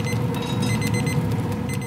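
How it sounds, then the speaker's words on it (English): A smoker thermometer alarm on a Yoder smoker signals that a Cajun smoked turkey has reached internal temperature, its faint steady beeping buried in loud, constant background hum and noise. "when our alarm goes off, we know that turkey's gonna be ready"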